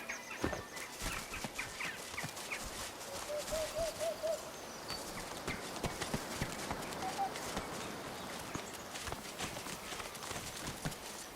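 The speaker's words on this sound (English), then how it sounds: "3 owls in the enclosure stare you down blankly, fluffing their feathers and blinking in turn." Owls hooting softly in an enclosure in the fantasy video game Divinity: Original Sin 2, a few brief hoots over a steady ambient bed with faint clip-clop and farmyard noises.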